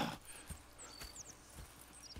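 Horse hooves clopping at a steady, quiet pace with a brief whinny, from the video game Red Dead Redemption 2, set over faint ambient background.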